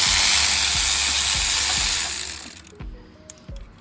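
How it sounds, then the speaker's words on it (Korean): A ratchet wrench bought cheaply from AliExpress clicks through a few strokes while working on a Genesis G70 rocker cover, starting under a loud hiss and then sounding clearer on its own. "알리에서 산 라쳇 2만원 주고 샀나 3만원 주고 샀나."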